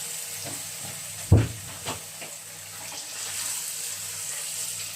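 Beef frying in tomato sauce is turned in a pan, a sharp clatter and scrape of a utensil followed by a softer knock, over a low continuous sizzle.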